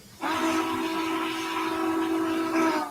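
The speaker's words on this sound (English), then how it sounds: "something I'm realizing about 4449's whistle is that it sounds very similar to the 3985's" Steam locomotive 4449 sounds a long, steady chime whistle, loud and close, holding one sustained blast of nearly three seconds with no talking over it.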